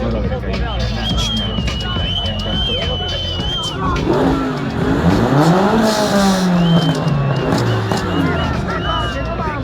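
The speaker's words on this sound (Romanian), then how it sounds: "Spune-le puțin să ambaleze motoarele." Race car engines rev at a circuit racing event, with loud rising and falling engine sweeps over a continuous crowd murmur and nearby voices.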